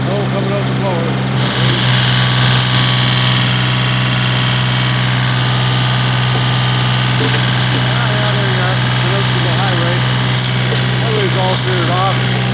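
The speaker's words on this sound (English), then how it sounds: "Snow coming out the blower." A snow blower runs steadily while clearing about a foot of snow from a January storm, a loud, continuous mid-range engine drone with blowing hiss throughout.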